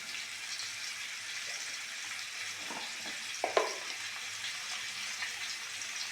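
Green chillies drop into a pan where papaya and potato are already frying, bringing a steady, soft sizzle and a few brief clinks or stirring clatters near the middle, with no talking.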